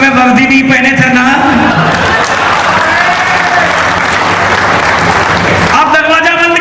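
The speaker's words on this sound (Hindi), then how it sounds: "तालियां अपने आप उठेंगी" A live audience at a comedy poetry event bursts into applause after a punchline, loud sustained clapping that rises between stretches of someone speaking at the start and end.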